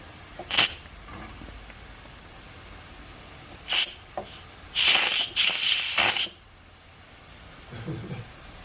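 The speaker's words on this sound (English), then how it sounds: "I'm gonna try the quick release." An Instant Pot valve releases steam during a quick release, sending out a few brief sharp hisses and then a longer loud burst of about a second and a half, with a faint voice near the end.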